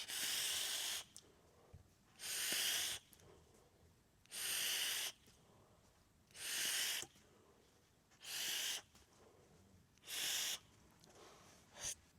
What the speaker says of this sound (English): What I'm going to do is I'm going to drip it on here, we're going to vape it